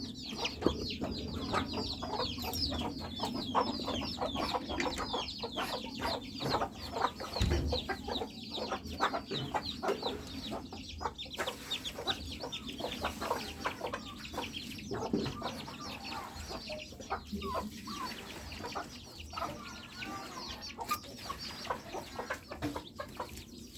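Chickens cluck softly on a farm where chickens and ducks are kept. The calls are quiet and scattered, with frequent short notes over a steady low background.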